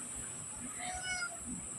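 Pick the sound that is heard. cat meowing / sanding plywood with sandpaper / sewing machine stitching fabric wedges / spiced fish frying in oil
cat meowing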